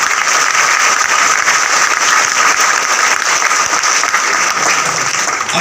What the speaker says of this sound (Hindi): आपकी कमिटमेंट के लिए जबरदस्त तालियां बजाइए।